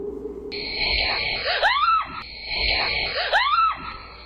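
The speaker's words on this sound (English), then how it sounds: "absolutely terrified and screams and hurries back inside" A woman screams in terror at night on a haunted property, two long, loud wavering shrieks rising and falling, each separated by a brief gap.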